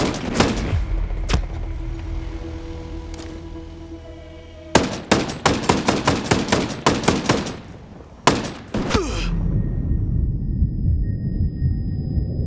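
Gunfire in a Ghost Recon Breakpoint PvP match, with scattered shots early on, then loud rapid automatic bursts, a pause, another burst, and a fading rumbling tail.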